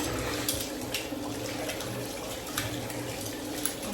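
Faint, steady trickle of tap water running into a clogged sink, a continuous soft wash of water with small splashes, distant and without talk.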